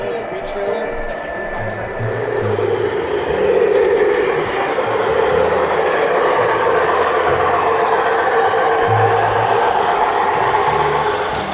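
Model train hauling a long string of tanker cars on a club layout, a steady rolling rumble with light rhythmic clicking from the track, carrying on under a busy indoor hum.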